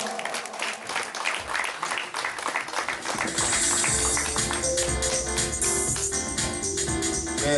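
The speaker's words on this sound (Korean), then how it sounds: "여러분 뜨거운 박수 부탁드리겠습니다" An audience claps warmly at a Korean popular singers' association launch and president inauguration ceremony: dense, steady applause that holds throughout, with tonal music swelling in beneath it partway through.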